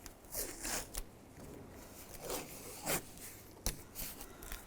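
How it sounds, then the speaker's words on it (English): Adhesive tape pulled off the roll and pressed onto the window of a 2006-2011 Cadillac DTS during a window regulator repair: repeated close, raspy ripping and rubbing strokes, fairly quiet, with no talking. "Now we're going to tape up the window."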